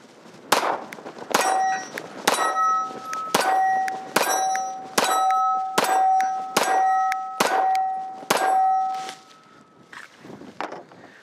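About nine sharp Sig P365 9mm pistol shots, each followed by a bright ringing clang from steel targets 10 yards away, fired in a steady rhythm roughly a second apart, loud and with no talking.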